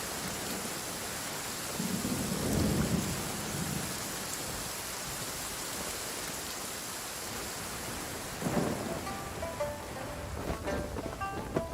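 Steady heavy rain hisses throughout, with low thunder rumbling twice, once early and again later, over a constant wash of downpour in the video game Genshin Impact.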